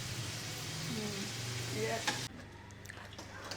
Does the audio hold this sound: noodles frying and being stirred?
yes